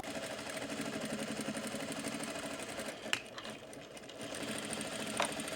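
A sewing machine top-stitches a pair of pants in a steady, rapid mechanical whir, close and continuous with a couple of brief clicks and pauses.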